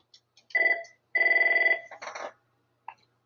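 Desk telephone on an Avaya IP Office system rings with two electronic trilling bursts, close and clear in a quiet room, followed by a short click.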